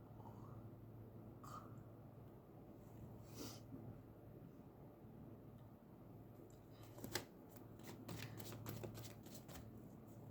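Tarot cards are shuffled by hand in a quiet room, faint papery riffles and shuffles with a brief cluster of sharper card snaps near the end.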